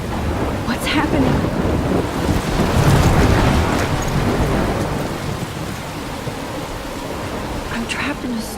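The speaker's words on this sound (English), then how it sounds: "I'm trapped in a storm?" A thunderstorm with rain in Life is Strange, heavy steady rainfall with a deep rumbling thunder swell that builds in the middle, loud and continuous throughout.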